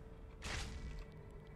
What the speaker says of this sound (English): That was a big explosion just now.